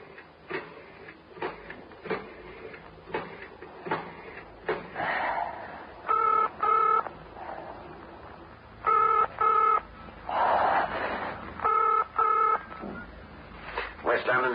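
A telephone is dialed in a radio drama, heard as repeated short electronic tone bursts in groups between clicks and rustles, with a voice speaking in places.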